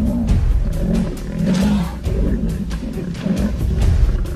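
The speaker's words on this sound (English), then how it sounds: "The sound of the croc roaring and snapping its jaws was unbelievable" A large crocodile roars loudly in the wild, with deep, sustained rumbling growls rising and falling across the whole stretch, mixed with sharp snapping and thrashing noises close by.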